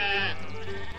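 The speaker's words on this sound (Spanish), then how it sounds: "la oveja Petra la que empezó a balar cada vez más alto y más alto" A sheep bleats loudly and close, a sustained, quavering cry that swells and carries on without pause from start to finish.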